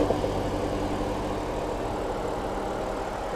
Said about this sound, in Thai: เครื่องยนต์ทำงานปกตินะคันนี้